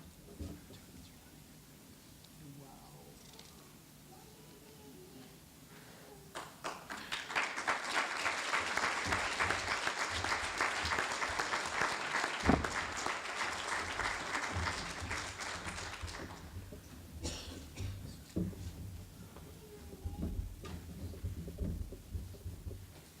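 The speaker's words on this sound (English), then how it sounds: "Ladies and gentlemen, a round of applause." Audience applause at a fire department awards ceremony: a broad burst of clapping swells up after a quiet stretch, holds steady for about ten seconds, then fades into scattered claps and room murmur.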